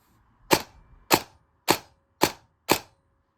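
An airsoft BB gun fitted with an aluminum mock suppressor fires five sharp, evenly spaced semi-auto shots. Each is a crisp crack with a quick decay, close by, against near silence.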